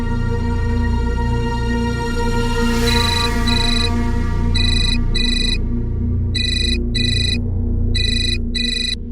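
A phone ringtone chirps in repeated short double bursts over a steady background hum, fairly loud and regular.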